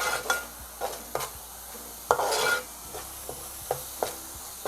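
Turmeric and Koli masala are stirred into a fried ground paste in oil for a catfish curry: a spoon scrapes and taps the pan in a regular rhythm over a soft, continuous sizzle, close by.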